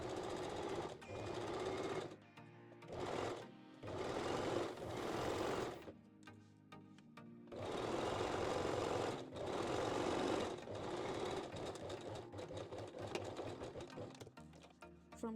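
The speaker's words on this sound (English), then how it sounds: "Then we can sew it with zigzag and stitch the band just from the side mark to the second side mark." A sewing machine zigzag-stitches a binding band onto a thong bikini bottom, running in several loud, fast bursts separated by short pauses, close up with no talking.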